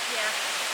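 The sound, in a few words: massive waterfall near the hiking trail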